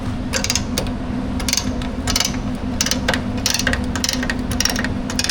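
A brake caliper compressor tool is released on a supercharged LS Tahoe, producing repeated ratcheting clicks and mechanical creaks over a steady low hum, close and moderately loud.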